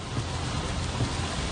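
Heavy rain pours down in Hafar Al-Batin, eastern Saudi Arabia, a dense, loud, continuous roar of drops hitting surfaces with a low rumble underneath.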